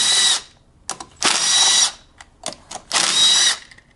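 Power drill backing out 8 millimeter bolts on a GY6 Ruckus scooter: three loud whirring bursts separated by short clicks and ratcheting taps, close up with no talking.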